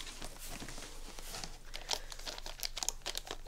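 Continuous crinkling and crackling of gift wrapping paper as sticky tape peels away while a parcel is unpacked, close and steady with a few sharper crackles, heard alone.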